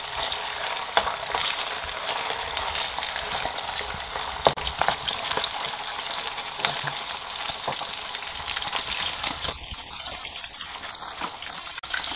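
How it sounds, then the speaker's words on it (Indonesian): Steady crackling sizzle of chicken skin frying in hot oil, continuous and close, with a few louder pops and no talking. "Kita goreng sampai setengah matang ya."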